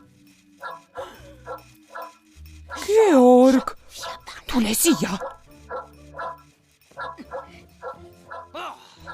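A cartoon dog barks and yips repeatedly in short, bright, nearby bursts, with a few longer whimpering howls, while cartoon characters talk over and between the barks.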